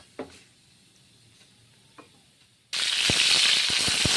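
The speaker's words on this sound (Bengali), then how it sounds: "আমি রান্না করছি লঙ্কাগুলো ভেজে নিচ্ছি নেড়ে চেড়ে শুকনো লঙ্কা" Dried red chillies fry in a pan while being stirred, with near silence and a couple of light taps at first, then a sudden loud, dense sizzle that carries on to the end.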